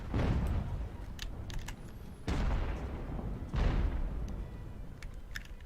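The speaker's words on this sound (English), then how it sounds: "it looks like we're receiving cannon fire ourselves" Deep booming blasts of cannon fire roll out in an Age of Sail naval game battle, three heavy rumbling shots with distant crackling between them.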